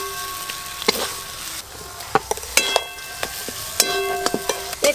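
Jackfruit and potatoes sautéed with ground cumin, dried chili paste and turmeric in a pan, giving a steady sizzle broken by scattered clinks and scrapes of a spatula.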